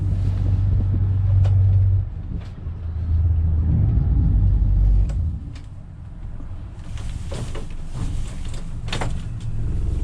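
Low, steady motor rumble from a boat called the No Collusion as its right motor runs in reverse to swing the hull left. The drone swells and eases in two long pushes, with faint clatter on top.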